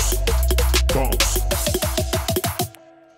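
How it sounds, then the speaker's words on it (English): Riddim drum roll under a filter sweeping from lows to highs, fast repeated hits growing brighter over a fading bass, ending abruptly into near silence. "I just added the filter and I let the filter sweep from left to right."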